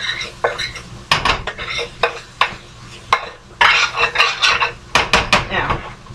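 Southern collard greens are stirred in a pan cooked without water. A utensil scrapes and clatters against the pan in repeated close strokes over a soft sizzle, with no talk.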